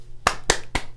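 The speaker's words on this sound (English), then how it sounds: "why do they have to clap every time you walk in the room" A small group of people clap as a man walks into a room, four crisp, evenly spaced bursts of applause in about a second, close and loud with no talking.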